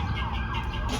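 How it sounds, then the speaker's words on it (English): An emergency vehicle siren wails outside in town, a brief, loud, sweeping tone over a rumble of traffic. "Y'all hear that siren?"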